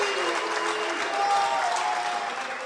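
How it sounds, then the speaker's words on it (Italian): Spanish residents applaud from their balconies in the evening for frontline workers during the coronavirus outbreak, a steady, dense wash of clapping from many hands, echoing and somewhat distant, with faint voices mixed in. "dai balconi, anche gli spagnoli applaudono chi è in prima linea contro il virus"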